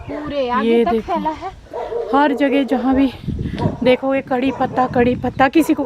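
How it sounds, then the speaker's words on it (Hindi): A dog at an old Himachal palace barks and whimpers with yips and whines in repeated bursts, close by, while someone talks over it throughout. "और ये जो कुत्ते के भौंकने की आवाज आ रही है, ये राजा का ही कुत्ता है"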